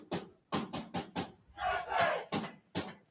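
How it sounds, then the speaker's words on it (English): Football crowd at a Guernsey v Wick Southern Combination Premier Division match, shouting in short loud bursts that swell into a sustained cheer midway before breaking into further calls. "And the crowd has found their voice again, the relief."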